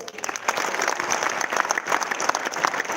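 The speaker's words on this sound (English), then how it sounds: "Can I get a big round of applause?" Youthful crowd applauding at a college inauguration ceremony in India, a steady dense roar of many hands clapping throughout, fairly loud and continuous.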